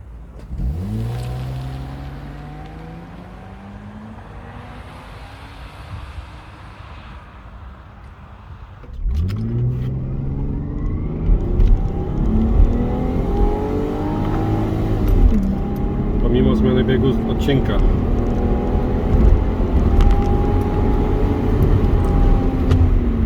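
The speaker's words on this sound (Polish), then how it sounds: "Spróbuję raz wystartować standardowo, czyli trzymając nogę na hamulcu i przerzucając ją na gaz" A stock Lexus IS200 launches from standstill in a 0–100 km/h acceleration run: the engine revs climb and drop through repeated gear changes, loud and close, with a brief quieter idle before a second hard pull.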